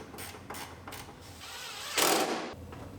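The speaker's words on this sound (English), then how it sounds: "We'll bolt our fender in" Socket ratchet clicks in short repeated bursts while bolting a car fender, close by, with one longer whirring pass near the end.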